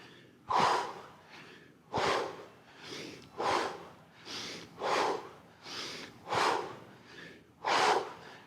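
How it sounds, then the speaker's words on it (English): Forceful breathing during kettlebell straight leg crunches, lying on the back: nine sharp, rhythmic exhales, close and loud, pushed out roughly once a second with quieter inhales between, with no talk. "Forceful breathing."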